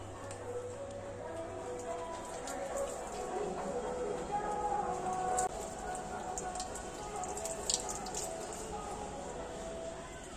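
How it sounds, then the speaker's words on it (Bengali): Water poured onto a tulsi plant outdoors makes a steady, soft splashing patter with faint drips, sounding close and continuous for about ten seconds. "এবার তুলসী গাছে জল দিয়ে দিই।"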